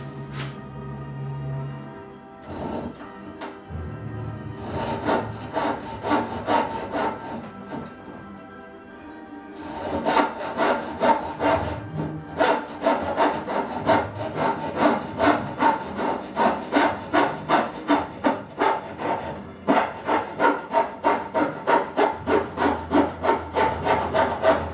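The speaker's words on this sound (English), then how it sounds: "Sawing out the end of the dovetails here" A hand saw rasps through wood cutting dovetails in quick, regular back-and-forth strokes, the rhythm speeding up and staying steady after a short pause.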